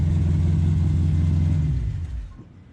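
A big block engine with a tunnel ram in a Dodge D100 pickup rumbles at a loud, steady, deep idle close by, then winds down and cuts out in the last moment.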